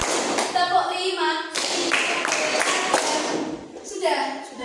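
Children in a classroom clap along in a counting cheer, several separate rhythmic bursts of group claps between spoken and chanted counting.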